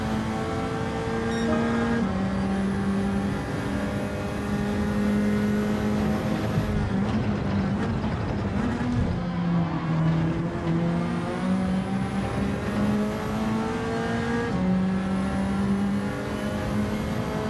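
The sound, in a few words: Ferrari race car engine in video game Gran Turismo 7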